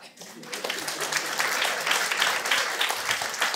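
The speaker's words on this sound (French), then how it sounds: "par applaudissement." Comedy club audience breaks into steady applause, dense clapping building quickly and holding loud throughout, with some voices mixed into the crowd noise.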